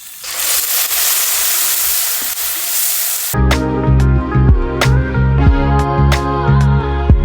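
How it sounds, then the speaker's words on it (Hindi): Saag greens drop into hot oil already holding cumin, garlic and onion, setting off a loud hiss that gives way to stirring and the clink of a utensil against the pan. "अब मैं डालती हूँ इसमें अपना साग।"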